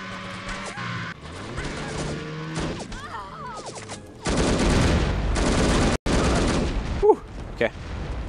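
Grenade launches and explosions in the video game The Operative: No One Lives Forever, with a loud, dense run of blasts and crashing impacts in the second half, followed by sharp bangs, with a voice speaking briefly early on.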